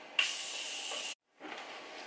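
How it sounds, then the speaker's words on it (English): Morphe makeup setting spray mists in a bright, hissing burst lasting about a second, then cuts off, followed by a quieter, softer hiss. "so to set, I'm going to use this makeup setting spray by Morphe."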